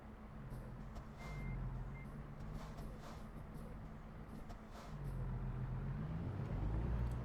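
A truck in American Truck Simulator rumbles with a low engine drone that swells and shifts pitch, while thin electronic beeps sound faintly in the background.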